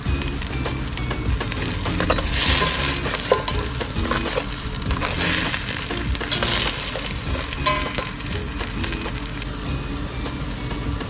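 A crab dish bubbles in a pot while it is stirred, with dense sizzling crackle and scraping clatter running steadily and fairly loud the whole time.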